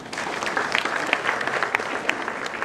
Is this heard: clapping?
yes